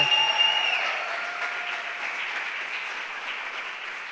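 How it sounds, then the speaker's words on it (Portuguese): A church congregation claps steadily during a sermon, with a brief high tone over the start; the applause stays even and gradually softens. "Você pode aplaudir mais forte"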